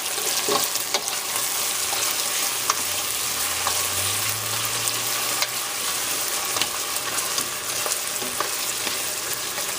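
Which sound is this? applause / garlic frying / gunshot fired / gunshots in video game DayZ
garlic frying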